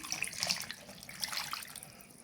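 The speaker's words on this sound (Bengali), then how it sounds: "এখন আমি দিয়ে দিব পানি" Water runs steadily from a tap into a pan of sliced potatoes, a close, continuous splashing stream with no voices.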